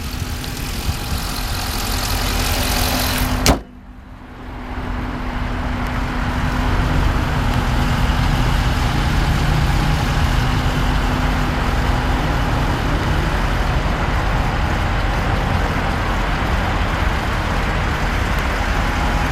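A 2012 Dodge Charger SRT-8 with a V8 engine cranks and catches with a sharp burst, then settles into a steady, loud, rumbling idle close by for the rest of the time.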